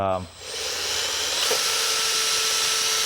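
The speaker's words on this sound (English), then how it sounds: "So drill the hot rivets out" A drill bores into the center of rivets on a modern Vespa scooter, starting and running steadily with a bright, hissing whir that holds loud and constant for a few seconds.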